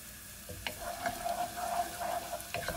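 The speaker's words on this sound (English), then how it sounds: "I'm going to be putting in the garlic." Garlic fries in a pan with a steady low sizzle, while a utensil stirring it adds scattered scrapes and taps close by.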